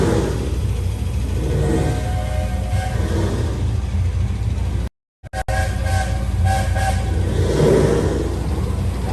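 A loud train at Magic Kingdom rumbles past with a long, sustained horn blaring, briefly cut by a moment of silence before the rolling noise and horn resume.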